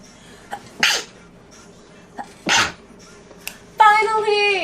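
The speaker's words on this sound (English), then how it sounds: "Finally! I've had to sneeze for like an hour." A person sneezes twice in quick, sharp bursts with quiet gaps between, followed by a drawn-out voiced exhalation, all close to the microphone.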